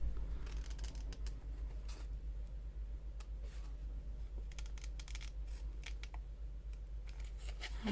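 Scissors snip through a paper card for a December Daily album, with quick crisp cuts coming in irregular clusters close by against a quiet room hum, no talking.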